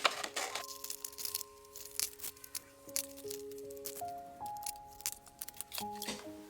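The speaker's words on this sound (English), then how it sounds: "I'm going to cut out this piece here because I really like the craft paper." Quiet, crisp snips of scissors cutting a piece of craft paper recur irregularly at close range, with soft paper rustles between cuts and a faint stepping melody in the background.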